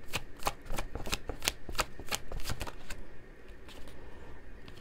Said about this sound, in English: We'll pull three more specific cards